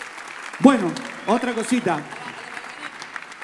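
Audience at a live stage show breaks into applause, a steady wash of clapping running under a voice speaking over it.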